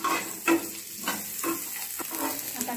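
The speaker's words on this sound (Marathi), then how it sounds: "कांदा भाजताना यावर थोडं तेल टाकून घेऊ आपण, म्हणजे कांदा छान भाजला जातो" Chopped onion fries in oil in a pan with a steady close sizzle. The hiss is broken by a few scraping stirs, and no one speaks.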